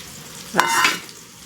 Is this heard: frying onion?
yes